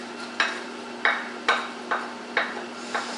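Vegetables with onions, parsley and sugar are cooking in a pan, with a spatula stirring and tapping in evenly spaced strokes over a steady low sizzle and a faint constant hum.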